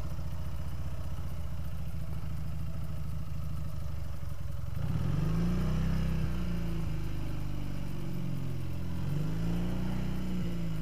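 A refurbished 1957 Douglas Dragonfly motorcycle engine idles with a rapid, even beat, then revs up partway through into a louder, rising roar that swells and settles, heard close by.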